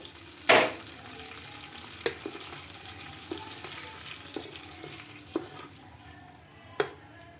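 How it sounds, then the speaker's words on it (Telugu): A sharp burst of sizzling as tempering hits hot oil, then a quieter crackle with occasional spoon clinks against the pan. "ఇంకా ఇందులోకి పోపు కూడా వేసేసుకుందామండి"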